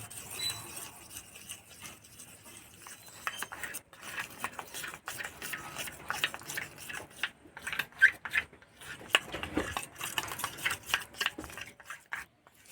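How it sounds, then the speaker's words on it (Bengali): Hand-mixing nimki dough of flour, white oil and cornflour in a bowl, with soft, irregular rubbing and squishing bursts, close and quiet, growing busier partway through. "আর দেবো তিন চামচ কর্নফ্লাওয়ার ভালো করে মিশিয়ে নেব"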